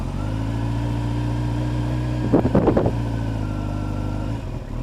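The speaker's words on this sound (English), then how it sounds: "And this time I'm going to actually give it just a little bit of gas." A Kawasaki ZX10R motorcycle idles with a steady low engine rumble close by, then takes a brief light throttle blip with rough pulsing, and settles back to idle.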